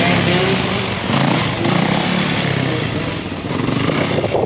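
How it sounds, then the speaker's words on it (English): A 2020 Yamaha YZ450F four-stroke dirt bike is being ridden, its engine a steady loud rasp with slight surges in throttle, heard close and continuous throughout. "We got Jamboro about to shred the new 2020 YZ."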